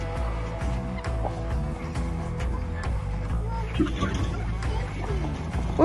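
Pasture broiler chickens on a farm in Arkansas cluck and murmur steadily, with rhythmic low calls that carry on throughout and other farm noise in the background.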